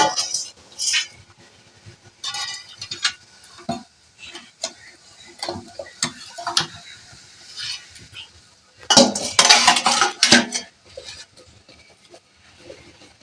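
Metal lid lifted off a cooking pot during steaming of rohu fish, with scattered sharp clinks and taps of metal utensils, a louder burst of clattering and hissing near the end amid quiet kitchen pauses.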